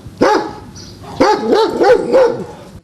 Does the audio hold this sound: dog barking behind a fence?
yes